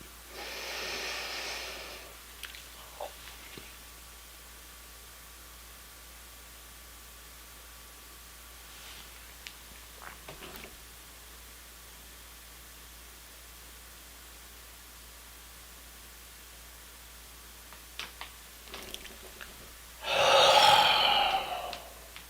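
Deep breathing exercise: a long slow inhale at the start and a strong exhale near the end, close to the mic, with faint sniffs and rustles in the quiet between.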